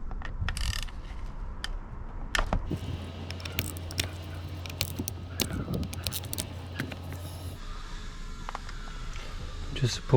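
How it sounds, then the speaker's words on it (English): T25 Torx screws being loosened from a Mitsubishi Evo X SST mechatronics unit, with close ratcheting clicks, metallic ticks and tool clatter in an irregular series. "I'm going to take off these screws here."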